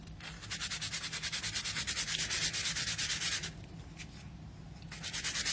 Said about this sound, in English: first we need to give it a light sanding